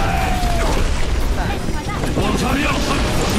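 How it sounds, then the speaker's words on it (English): Rocket barrage explosions in Overwatch: a dense, continuous rumble of overlapping booms and bursts fills the moment, loud and close, with game voices shouting over the din. "Rocket barrage incoming!"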